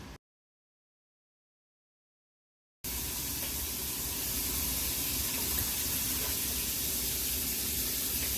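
Water pours steadily into a hot canning pot used for jarring bruschetta and banana peppers, a continuous splashing rush that starts abruptly after a short silence and stays loud and close until the end.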